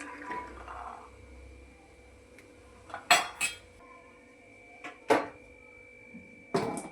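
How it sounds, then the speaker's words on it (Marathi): Peas being dropped into a pressure cooker that already holds potatoes and a little water, heard as a few sharp metallic clatters and clinks spaced apart, close by, with quiet kitchen hum between them and no voices. "वाटाणा टाकायचा."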